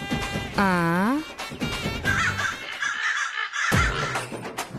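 Crows caw several times in harsh calls, mixed with people talking nearby.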